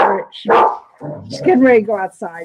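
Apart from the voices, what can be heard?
dog barking, getting ready to go outside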